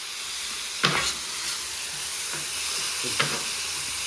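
Onions sautéing in oil in a pan for a Madurai-style country chicken salna, a steady bright sizzle with a few sharp scraping stirs, close and fairly loud.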